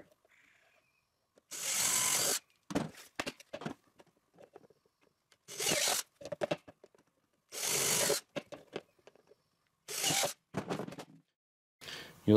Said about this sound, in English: So we're going to drill 7 holes in here.